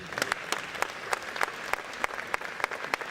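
Audience applause at a university launch event, a steady clatter of many hands clapping together, fairly close and even, with brief sharper claps standing out across the room.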